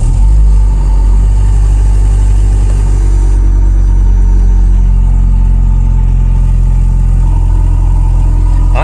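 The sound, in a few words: Toyota Prius car engine started and idling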